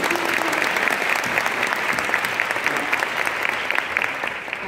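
Audience applause at a digital media talk in Bursa, a steady wash of many hands clapping with individual claps standing out, fairly close and continuous.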